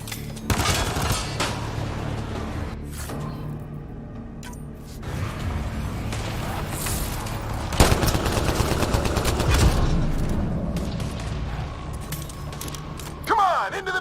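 Enemy gunfire in the sci-fi shooter Mass Effect Andromeda, dense bursts of shots and impacts crackling over a rumbling battle bed, swelling louder near the middle and again at the end, with brief game dialogue mixed in.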